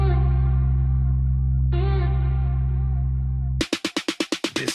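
A final musical beat in a fashion promo rings out with an echo effect: a long sustained synth chord, then a rapid train of about ten repeating echo pulses that decay and fade out.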